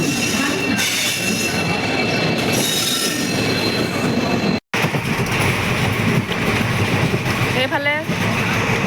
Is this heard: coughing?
no